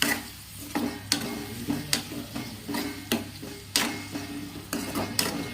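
Spices stir and sizzle in a pan for potato kurma. A steady low frying hiss runs under repeated sharp scrapes and taps of a spoon against the pan, close and moderately loud, with no talking.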